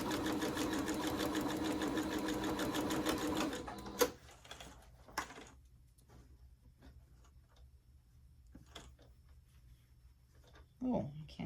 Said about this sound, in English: And then when we get to this end, we're going to come down and we're going to back stitch as well.